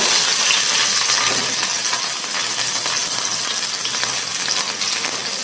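Chillies frying in hot oil in a pan while poha is being made: a loud, close, continuous sizzle and crackle with a steady hiss throughout.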